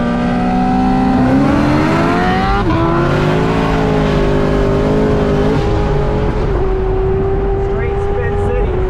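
A CTSV and a Foxbody in a race, engines droning loud and steady with rising pitch as the tires spin, with people talking over the noise.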